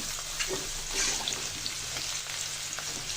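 Chopped onions fry in hot oil for a chicken roast, giving a steady, soft sizzle with scattered pops and crackles throughout and no voices.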